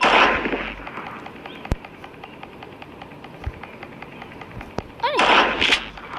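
A shotgun fired in a game, with loud blasts at the start and again near the end, several sharp single reports between them over steady background noise.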